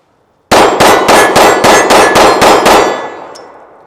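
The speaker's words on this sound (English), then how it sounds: "So let's go ahead and draw and fire 9 rounds in more of a self-defense scenario." A Cosaint Arms COS11 pistol fires nine rounds in a quick, evenly spaced string, each shot a loud, sharp crack with a ringing tail that fades after the last round, with no voices.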